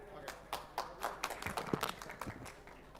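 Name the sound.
audience applause at forum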